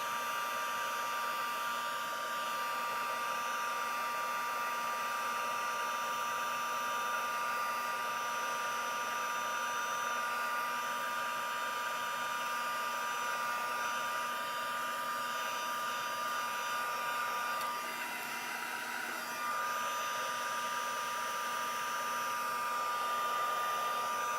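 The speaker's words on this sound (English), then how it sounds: "Now I'm going to go right back in there and heat up the gold." A heat tool melting gold embossing powder, a steady loud blowing whir with a constant high whine, close and unbroken for over twenty seconds, no speech.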